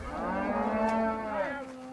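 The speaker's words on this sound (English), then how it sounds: "They're just some mixed age Angus cows." Mixed-age Angus cows on a farm, one long low moo with a clear tonal drone that swells and then slides down before trailing off, close and fairly loud, with no voices.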